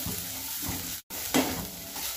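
A spoon scrapes and stirs through papad chutney as fresh coriander is folded in, with soft sizzling underneath, a brief gap, and then a sharper scrape close by.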